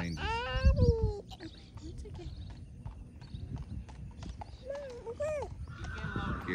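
A five-year-old Haflinger and Saddlebred cross horse lopes around an arena, hooves thudding in a rhythmic clip-clop at moderate distance, with a loud whinny near the start and another later.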